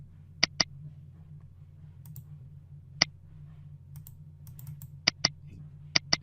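A computer mouse clicks sharply a handful of times over a low, steady room hum, mostly in quick pairs with pauses between them.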